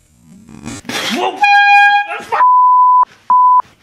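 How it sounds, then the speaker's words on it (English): A handheld air horn gives a loud tonal blast and then two shorter bursts close to the microphone. Some brief vocal noise comes just before the horn. "This is a air horn."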